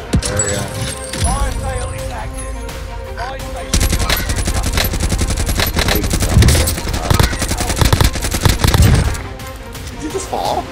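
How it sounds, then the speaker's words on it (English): Rapid bursts from a Krig 6 rifle in a video game, a fast rattling stream of shots that starts partway in and hammers on for several seconds, with players talking over the clatter and the firing. "I'm beaming people with this Krig."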